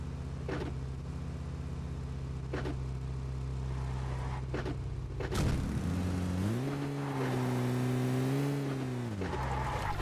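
PUBG Mobile car engine drones steadily for about ten seconds, then revs up and wavers in pitch as the vehicle accelerates, with a few sharp knocks and clicks near the start.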